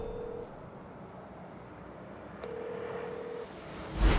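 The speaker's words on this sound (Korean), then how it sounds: "아, 전화를 한번 걸어봅니다." An outgoing phone call gives two steady, flat ringback tones separated by a long pause, heard faintly over constant background hiss.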